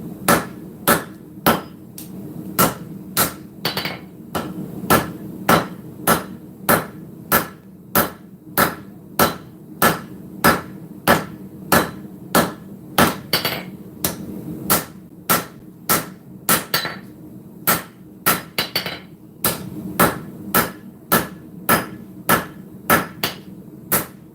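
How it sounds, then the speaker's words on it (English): Steady hammer blows ring out one after another while forging a blade, about two strikes a second in a regular rhythm with brief pauses, close and loud over a low background hum. "We're going to start forging this clip in."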